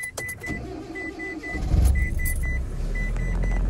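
A car engine cranks and starts on a frosty day, catching after a few clicks and a beep, then settling into a steady low idle that continues to the end.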